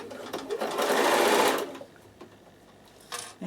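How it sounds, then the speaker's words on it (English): A Bernina sewing machine stitching tape down onto a toiletry bag, a close, loud burst of fast needle whirring for about a second and a half before it stops, followed by a brief quieter whir. "I'm going to stitch down one side"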